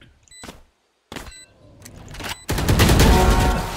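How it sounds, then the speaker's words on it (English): Video game gunfire erupts into a loud, continuous machine gun burst after a few sharp isolated shots and short gaps, close and dense, with no talk. "I'm shooting. Machine gun."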